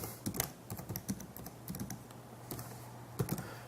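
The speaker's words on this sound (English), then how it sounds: "So I type in the IP address of my Counter-Strike server" Typing on a computer keyboard while entering a server IP address: rapid, close key taps in irregular bursts over a steady low hum, with no voices.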